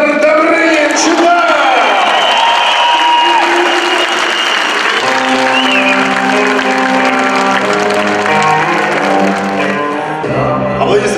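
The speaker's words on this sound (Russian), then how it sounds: "Аплодисменты, дамы и господа, аплодисменты!" An audience applauds after an amateur fight at the DRAKA event, with loud sustained clapping from a crowd while an announcer talks over it and music plays underneath.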